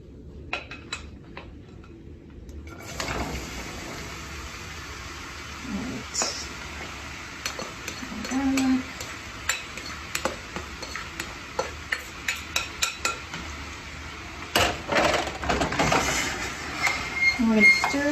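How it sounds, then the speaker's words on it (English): Vegetables going into hot oil in a home-kitchen pan and being stirred, with a soft sizzle and scattered clinks and scrapes of a utensil against the pan building through the middle and end, close by with no talk. "we have our oil heated in our pan, and now what we're going to do is we're going to add our vegetables"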